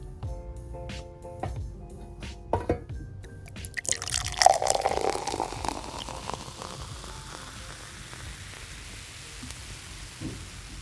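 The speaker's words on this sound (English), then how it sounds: "All right, so I'm about to start pouring." Melted candle wax pours into a vessel at a candle bar, a soft close liquid trickle with light drips and splashes that swells midway, then settles into a quieter steady flow, with no talking.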